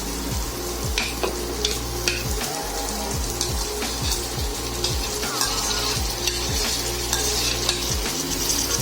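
Mutton frying with browned onions in a pan for mutton sukka, a steady loud sizzle with repeated scraping strokes of a stirring spoon at a regular rhythm, close up and without talk.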